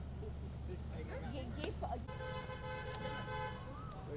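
A car approaches outdoors amid a crowd around an actress at a menstrual hygiene awareness event, engine hum rising under the voices, followed by a short horn toot and a sustained tonal horn or alarm.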